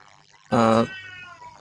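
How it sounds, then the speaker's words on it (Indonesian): A cat lets out one loud, drawn-out meow up close, with quieter, fainter tones and murmuring voices around it in a room where people are talking. "Bunyi kucing tuh di mana itu ada kucing?"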